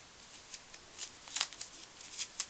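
Gift-wrapped nail polish is unwrapped close by: crisp, irregular crinkles and rips of wrapping paper, a few sharper bursts among softer rustles, with no voice.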